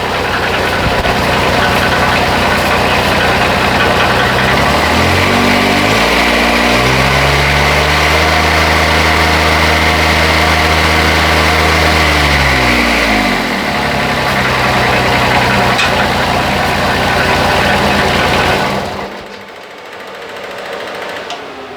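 A Bobcat 371 skid steer fitted with a swapped-in Kubota diesel engine revs up from a steady idle, climbs to a sustained high-rpm roar, then drops back and cuts off near the end. It is loud and close, with no talk.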